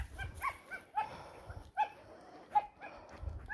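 Dogs at an animal shelter in Romania give a few separate barks and yelps spread across a short span, moderately close, with brief quiet gaps between them and no talk.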